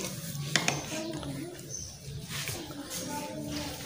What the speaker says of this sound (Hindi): ये भी कर लेते हैं अच्छी तरह मिक्स